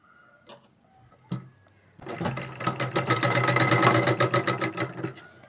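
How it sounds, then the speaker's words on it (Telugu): Sewing machine stitching over frills on cloth, starting after a couple of soft knocks and then running in a fast, close, rhythmic clatter of needle strokes that fills the rest of the clip, with no speech. "ఈ విధంగా ప్రిల్స్ పెట్టుకున్న తర్వాత దీనిపైన ఒక కుట్టు వేసుకోవాలి."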